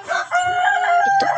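A rooster gives one short, loud crow close by, a bright drawn-out cock-a-doodle call lasting just over a second with no talk over it.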